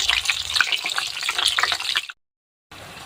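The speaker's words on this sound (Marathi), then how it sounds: "आता आपण ह्या तेलामध्ये तळून घेऊ मस्त. तेल खूप गरम आहे" Green chillies frying in very hot oil give a dense, steady crackling sizzle for about two seconds. A sudden gap of silence follows, then a quieter, even hiss resumes.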